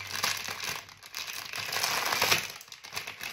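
Crinkly plastic grass rustles and crackles up close as it is handled, a steady soft crunching with no voices.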